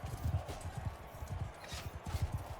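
A horse gallops and charges in battle in Mount & Blade II: Bannerlord, rapid hoofbeats thudding in uneven clusters close by over a low rumble of combat, with no speech.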